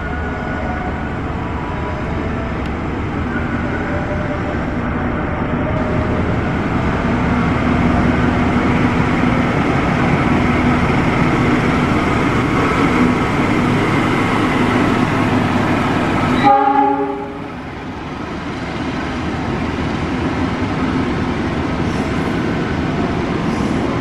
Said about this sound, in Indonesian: Jalur 3 melintas langsung kereta api Argo Cirebon dari Jakarta Gambir menuju Tegal.